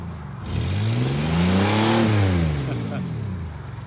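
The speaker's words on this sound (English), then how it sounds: "rip a few donuts and we'll wrap this one up" A car on fresh tyres does donuts, its engine revving up in a long swelling pitch sweep and then falling away, loud and close, with tyre hiss around it.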